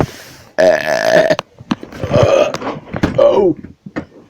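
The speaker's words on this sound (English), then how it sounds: "So now you're burping a lot." Burtle belches loudly in a long, rippling burp, then follows with a couple of shorter grunting burps and moans, close and alone without speech.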